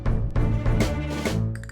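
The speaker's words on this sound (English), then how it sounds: "the violin coming in" Strings swell into an orchestral soundtrack, a violin entering over sustained low tones and building intensity, loud and continuous with no talking.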